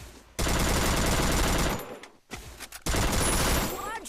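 Rapid automatic gunfire from a video game shootout against an enemy bot, in two long, loud, dense bursts split by a brief lull.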